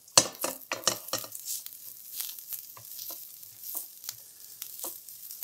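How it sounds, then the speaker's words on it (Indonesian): Onion and garlic stir-frying in a pan, with scraping stirs and soft sizzling at the start that thin out into quieter, intermittent frying crackles and scrapes. "bawang bombay, bawang putih, tumis sampai dia harum dan matang"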